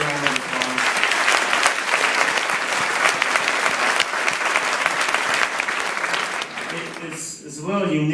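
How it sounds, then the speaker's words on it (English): Dense, loud audience applause fills an awards luncheon hall for about seven seconds, then stops abruptly as a speaker begins talking. "Please give her a round of applause."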